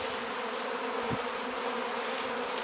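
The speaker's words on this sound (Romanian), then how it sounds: "Un alt roi." A large honey bee swarm hums steadily and loudly, a dense continuous buzz with no talk over it, recorded close while the swarm is being collected from a tree branch.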